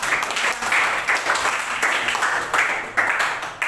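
A classroom of students claps together for a few seconds, a close, lively patter of many hands with uneven bursts and no talking over it.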